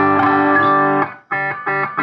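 A modified Marshall guitar amp is turned up into distortion: a loud, sustained overdriven electric guitar chord rings out, then cuts off, followed by two shorter distorted chord stabs.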